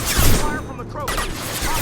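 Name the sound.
gunfire from a Krogan in the video game Mass Effect 2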